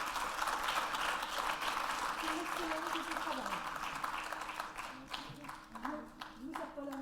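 An audience at a training-programme certificate presentation applauds the recipient, with steady clapping that thins out toward the end while voices talk over it.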